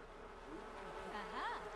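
Bees in The Sims 4 buzz steadily around a beehive, a continuous droning hum that swells slightly toward the end, close and fairly loud with no talking.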